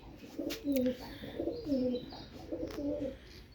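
Pigeons cooing in soft, repeated low throaty phrases, several birds close by, with faint rustling in the background.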